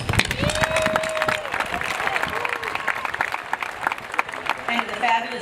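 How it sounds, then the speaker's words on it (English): A crowd applauding at a 2016 high school graduation ceremony, sustained clapping and some cheering throughout with voices mixed in. "You deserve a round of applause."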